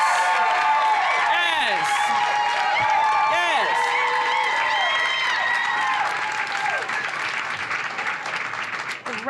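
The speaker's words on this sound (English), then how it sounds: "I welcome Martinus Evans. Clap it up." A lively crowd at the Slow AF Run Club book launch at NYRR RunCenter claps, whoops and cheers to welcome Martinus Evans, steady and loud throughout, with excited voices calling out above the applause.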